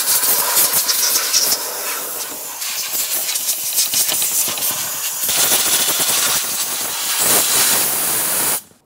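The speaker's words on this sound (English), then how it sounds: "We'll use some compressed air and just gently blow it away." Compressed air hissing steadily as it blows debris off the intake area of a 1994-2002 Dodge Ram 2500 engine, a loud continuous rushing blast with brief dips, cutting off abruptly at the end.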